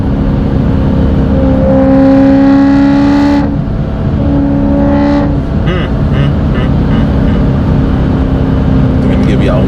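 A V8 BMW M3 engine blips and revs on a downshift, roaring loudly and steadily with rising and falling pitch, close to the listener, while someone talks over it.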